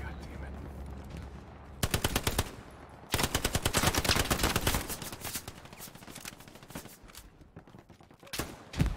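Rapid bursts of gunfire from the World War II shooter Hell Let Loose, sharp repeated cracks that turn into sustained automatic fire, loud and close, with short pauses between volleys.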